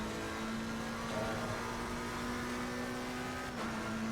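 Racing car engine from a sim racing game on the Brooklands circuit, a steady sustained drone at a constant pitch, loud and continuous with no talk over it.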